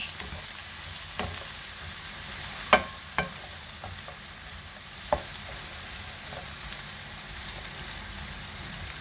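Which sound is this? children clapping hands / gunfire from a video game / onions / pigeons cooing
onions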